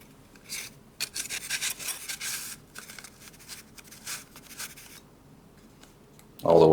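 Cardboard-tube parts of an Estes Pro Series So Long model rocket rub and scrape as a taped section slides into the booster body tube, a close, dry, intermittent scraping that ends with a louder knock.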